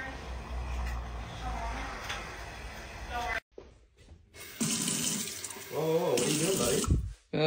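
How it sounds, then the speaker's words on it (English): Tap water pours steadily from a kitchen faucet, stops abruptly partway through, then gushes again in loud bursts with voices faintly mixed in. "Just drinking some tap water."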